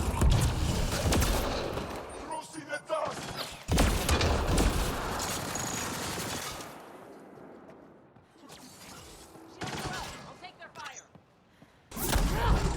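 Bursts of rapid gunfire and impacts in the video game Mass Effect Andromeda come in loud clusters separated by quieter stretches. Voices sound intermittently alongside the shooting.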